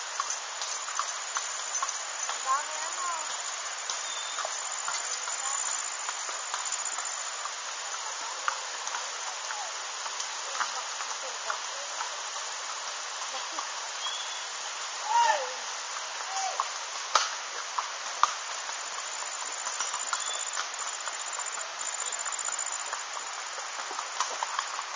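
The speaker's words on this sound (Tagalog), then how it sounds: "Kasalukuyan pong nagkakabayo sila." Horses ridden by locals in Tayabas clop along steadily, hooves blending into a constant broadband wash like rain or running water, with a few sharper knocks near the middle and faint voices now and then.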